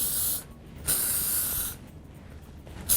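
Several short bursts of hairspray hiss from an aerosol can, spaced apart with quiet gaps between, close and fairly soft.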